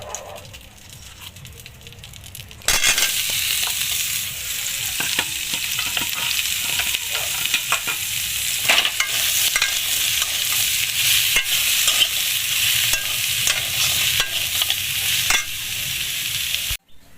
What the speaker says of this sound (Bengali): এই যে লাউ আলুটা যে কড়াইতে দিয়ে একটু নেড়ে নেবো